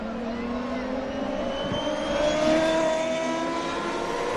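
CART race cars head out onto a very wet, slick circuit during 2002 Monterrey qualifying, their engines a continuous high whine with rising pitch sweeps that swell around the middle of the clip, heard alone with no talk.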